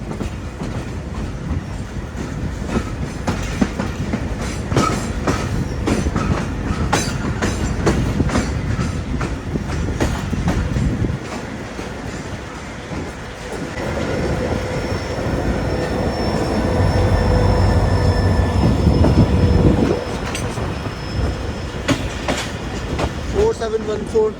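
A freight train shunting on a railway, with a steady rumble of wagons, repeated wheel clicks and clanks, and a louder grinding stretch near the end.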